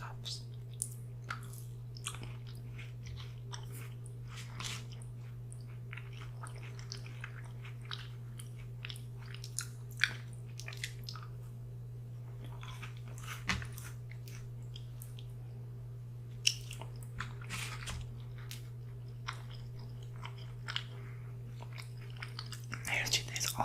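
Quiet, close chewing and crunching of granola cereal with chocolate chips and crispy rice or quinoa puffs, soft irregular bites and clicks over a steady low hum.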